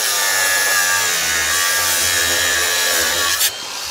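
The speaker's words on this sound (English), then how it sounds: "What I'll do now, I'll just grind one off." An angle grinder cuts off a bolt while a flitch beam is built for a large-span garden room roof, a loud, continuous harsh grinding whine that stops abruptly near the end.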